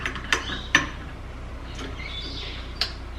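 Petroleum jelly melting in a double boiler, stirred close up with a utensil: a few scraping clicks and creaks spaced irregularly, separated by soft rubbing.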